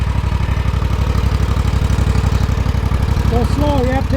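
A zero turn lawn mower engine idles steadily and loudly up close, a constant pulsing drone throughout, with a few brief tonal chirps near the end.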